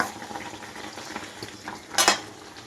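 Mutton is sautéed in oil in a pan as part of Bengali kosha, with soft sizzling and occasional scraping and stirring, and a sharper clatter of metal near the end.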